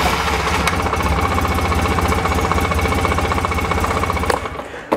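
Polaris Sportsman 600/700 carbureted ATV with a new AC-to-DC ignition conversion kit: the engine is already running in a rapid, close, loud chugging idle that stays steady throughout, with a sharp click near the end.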